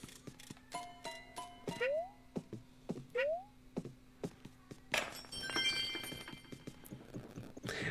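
A cat gives two short rising meows amid sparse knocks and clicks, followed by a busier burst of clattering game sounds.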